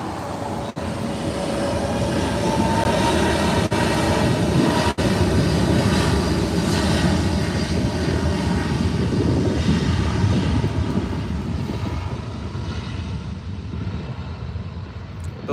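Airbus A320neo family airliner fitted with Airspace cabins, spotted at LAX runway 24R in the afternoon, giving a loud, steady jet roar that holds broad and continuous for the whole stretch with no talk.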